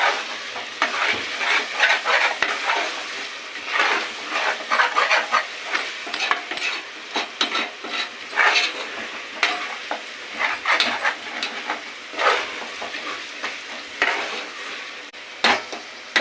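Ginger paste and coconut powder stirred in a frying pan for a mutton curry, a steady sizzle broken by repeated spoon scrapes against the pan, close and fairly loud, with no talking.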